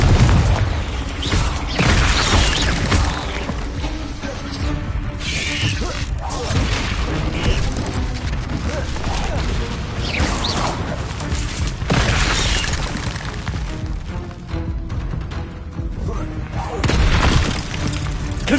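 Confringo fire spells blasting repeatedly in Hogwarts Legacy, a dense run of booming bursts and crackling impacts over busy combat noise, with a voice shouting between the blasts.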